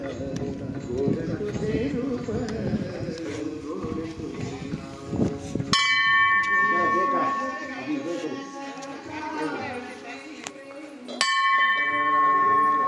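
A temple bell at a Hanuman and Shani shrine rings loudly twice, each strike leaving a long bright metallic hum that fades slowly, with people talking and a voice nearby throughout.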